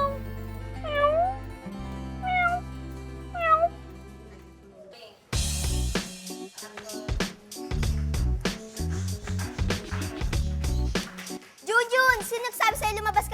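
Three short rising meows come over a low background hum, followed by busy cartoonish music and sound effects with a final meow-like wail near the end.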